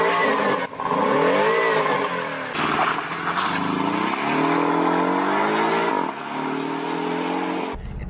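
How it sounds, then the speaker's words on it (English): A 2018 Porsche 718 Cayman engine revs hard, its pitch climbing and falling through repeated accelerations with brief drops between, loud and close with no talking. "This sounds like a Porsche."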